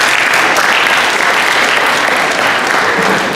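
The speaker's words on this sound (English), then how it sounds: "Round of applause, please, for the freshmen and the manager." Steady, loud applause fills a school athletic awards assembly as the crowd claps for freshman athletes and the team manager, a dense unbroken wash of hands with no pauses.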